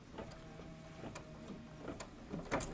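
Embroidery machine, a Luminaire, stitching a decorative outline on a quilted table topper, a quiet, rapid mechanical whir and clicking in short uneven bursts, close and alone.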